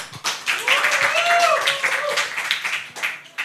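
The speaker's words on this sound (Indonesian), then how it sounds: "Mana tepuk tangannya?" Applause and scattered claps from a student audience at a university candidate debate for student president, lively and fairly close, with voices and cheers mixed in.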